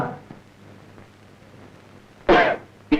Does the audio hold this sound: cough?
yes